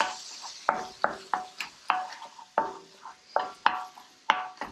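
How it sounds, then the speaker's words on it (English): Ground beef stirred and broken apart in a pot for a one-pot pannetje with green beans, ketchup, ginger, salt and pepper: a string of sharp, irregular spoon scrapes and taps against the pot, close and fairly quiet, with a faint sizzle. "I'm breaking it apart just like you would any other time that you are browning ground meat."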